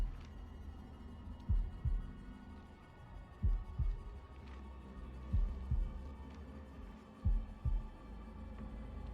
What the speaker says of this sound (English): I'm doing the heartbeats.